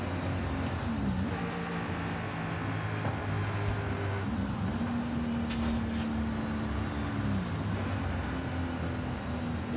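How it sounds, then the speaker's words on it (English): A Syclone truck's engine in Forza Horizon 5, steady droning revs with pitch sweeps as it shifts gears, sustained and fairly loud throughout. "Listen to that downshift."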